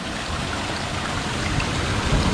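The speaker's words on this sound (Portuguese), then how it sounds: "É uma cachoeirinha que eles colocaram um cano pra centralizar a água pro pessoal poder tirar o sal" Water pouring from a pipe into a small waterfall among rocks at the left corner of Praia de Santiago beach, a steady hissing splash heard close and continuous with no voices.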